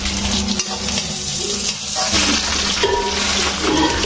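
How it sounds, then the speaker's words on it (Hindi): Chopped tomatoes drop into hot oil tempering in a home kitchen pan, giving a loud steady sizzle broken by scraping stirs of a spoon against the pot. "तो अब टमाटर ला डालता हूँ।"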